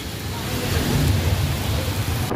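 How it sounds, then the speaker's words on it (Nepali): Heavy rain pours down in a sudden downpour in Dharan, a dense, steady roar of water with low rumbling beneath it, loud and continuous throughout. "हेर्दा हेर्दा ठुलो पानी पर्यो"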